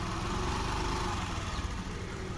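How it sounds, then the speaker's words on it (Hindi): Scooter engine running at slow throttle, a steady low motor drone with a continuous mid-range whir, close and fairly loud with no voices over it. "यहाँ पे स्कूटी का एक्सीलेटर देखिए मैं कितना ले रही हूँ"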